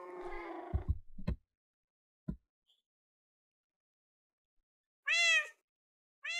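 Cats meow in a Minecraft ocelot mod game, a long plaintive meow first, then a few faint clicks and thuds across silence, before two more clear meows near the end.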